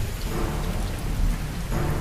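Heavy rain pours steadily with thunder rumbling through it, a dense, loud, continuous wash of sound with no voices.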